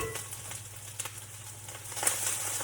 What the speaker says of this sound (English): Now, dump in your kale, and you'll be amazed that this kale is going to cook right down